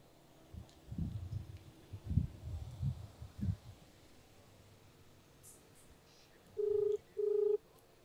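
A phone call waits for pickup: two steady ringback tone bursts sound over the line after some soft thumps and handling noise, quiet and unanswered.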